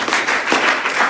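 Students at a school NSS seven-day camp clap for a child, a short, dense burst of applause from a group in a room.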